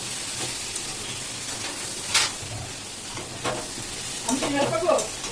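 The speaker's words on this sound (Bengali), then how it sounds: "একটু ধরে গুঁড়ো আর লবণ তো আগেই দেওয়া আছে দিয়ে ভালো করে একটু কষিয়ে নেবো" Spices, chilli powder and salt stir-fried in a pan, giving a close, even sizzle broken by a few louder scraping bursts of the spatula, with no speech over it.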